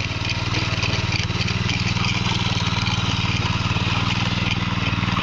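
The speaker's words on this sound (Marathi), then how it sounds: "आणि भाऊजी ट्रॅक्टरने नांगरतात" A tractor engine chugs loud and steady nearby while ploughing a field, with a constant rhythmic low throb and no pauses throughout.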